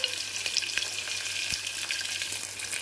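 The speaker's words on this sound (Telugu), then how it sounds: "ఆయిల్ వేడైన తర్వాత ఈ ఆనియన్స్, పచ్చిమిర్చి తరిగి వేసేసి ఫ్రై చేసేద్దాము" Chopped onions and green chillies fry in hot oil, a continuous close sizzle with small crackles and occasional utensil taps, no talking.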